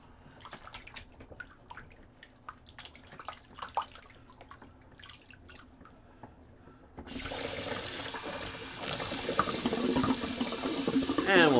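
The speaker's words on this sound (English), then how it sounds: "let's empty good old Sigmund the Sea Monster sink" Water drains from a bathroom sink, starting with scattered drips and small splashes, then turning into a loud, steady rushing flow that swells further toward the end.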